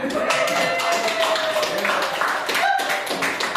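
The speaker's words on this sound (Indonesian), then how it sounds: "Ya, tepuk tangan." Students clap their hands in a classroom during a micro-teaching practice lesson, a fairly loud, uneven patter of claps with voices talking and a brief tone over it.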